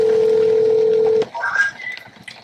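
Telephone tones: a long steady loud dial tone cuts off, followed by a few short, quieter dialing beeps.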